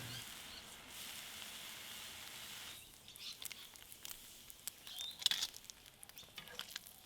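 Bacon sizzles in a frying pan with a soft, steady crackle that turns to quieter, irregular pops and spits partway through.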